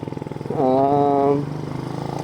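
A motorcycle engine idles with a steady pulsing putter, briefly revving higher in the middle before settling back to idle.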